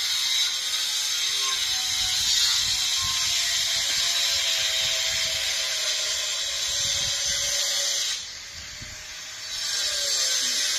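Construction on a neighbouring roof conversion comes through as continuous scraping and ratcheting mechanical noise, fairly distant, that dips briefly before resuming.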